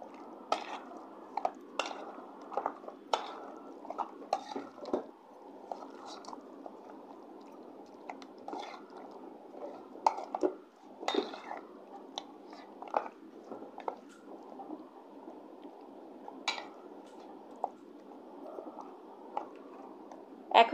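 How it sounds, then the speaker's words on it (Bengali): Packet biryani spices being mixed by hand into raw mutton for dum biryani, giving soft, wet squishing and kneading sounds with occasional sharper taps, close and steady throughout. "এখন সবগুলো মশলা একসাথে মাখিয়ে নেব।"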